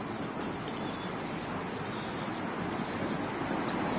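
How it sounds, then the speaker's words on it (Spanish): Fast, turbulent mountain stream flowing, a steady broadband rushing roar of water that holds constant throughout. "Consideremos, por ejemplo, este veloz arroyo de montaña."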